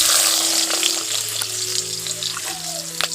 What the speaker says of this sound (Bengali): ওই তেলের মধ্যে দিয়ে দিচ্ছি পেঁয়াজ কুচি